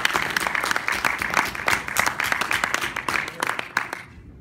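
Audience applause at an event, a steady crowd of clapping hands sustained for about four seconds before fading out abruptly at the end.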